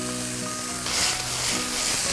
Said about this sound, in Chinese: 榨菜呢给它炒一下，一定要炒香